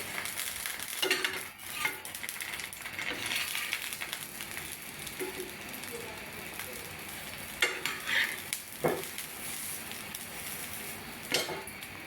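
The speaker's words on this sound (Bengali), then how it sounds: "তো বেগুনগুলো দিয়ে দিলাম। ভালো করে তেলের মধ্যে নেড়ে ছেড়ে নেব।" Eggplant pieces are stirred in hot oil in a pan still coated with fried-egg residue, giving a continuous sizzle broken by a few sharp scrapes and clinks of the spatula against the pan.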